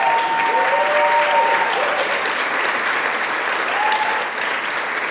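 Audience applause at a public event on Long Island, a steady dense wash of clapping from a crowd throughout, with faint voices mixed in.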